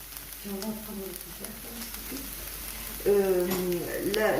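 Aubergines frying in plenty of oil in a pan give a soft, steady sizzle, with a voice talking over it and the frying growing louder near the end.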